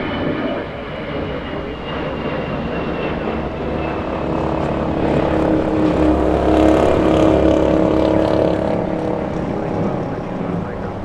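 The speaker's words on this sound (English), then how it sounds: "Alaska 296 heading to Seattle, Washington. That's an A320." An Alaska Airlines A320 jet at Los Angeles International Airport, a steady loud engine roar with low rumble that swells toward the middle and eases off, heard alone without talk.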